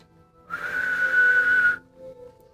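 A single steady factory workday whistle blows for over a second at dawn, loud and alone, then cuts off abruptly.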